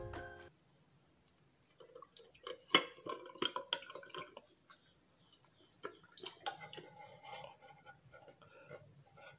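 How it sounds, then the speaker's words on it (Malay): Aloe vera juice poured slowly into a container of ice cubes, giving irregular close drips, clinks and liquid splashes that come in bursts with quieter gaps between them, with no voices. "ambil kita punya jus aloe vera tadi, masukkan perlahan-lahan"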